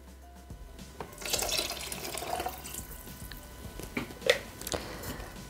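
Water runs into a Thermomix bowl holding pasta, peas, speck and mushrooms with salt and pepper, a quiet trickling pour with small splashes and drips, heard close and faintly.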